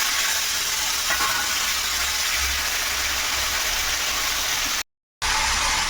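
Mustard seeds, cumin and green chilies sizzle in hot oil for a tomato chutney, a steady loud crackling hiss that runs unbroken apart from a brief cut.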